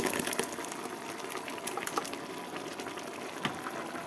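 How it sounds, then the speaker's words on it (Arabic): Tomato sauce is poured onto sautéed zucchini with onion and garlic in a pan. A steady, close wet sizzle and pour runs throughout, with a few soft splashes and no talking. "هبتدي انزل بالصلصه بتاعتي عليها"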